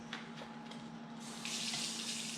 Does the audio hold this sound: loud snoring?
no